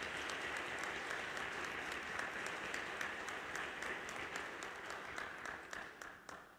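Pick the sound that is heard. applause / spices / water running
applause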